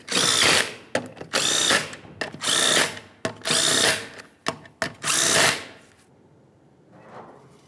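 A power drill or impact tool spins 19mm lug nuts onto a Ford Ranger wheel in about six loud, close bursts with short gaps between them, then quiets to faint background noise.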